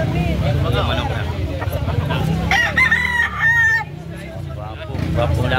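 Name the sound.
gamefowl rooster crowing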